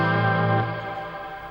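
A sustained guitar chord rings through reverb with a modulate setting that adds a gentle wobble, the wash of sound slowly dying away on its own.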